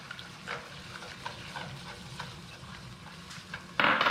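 An egg sizzles in a hot pan as it is stirred, giving a soft crackle with light scraping strokes and then a sudden louder hiss of frying at the very end.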